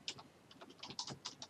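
Someone types on a computer keyboard while working in Word 2016, producing quick, close, crisp key clicks in uneven bursts with no talking.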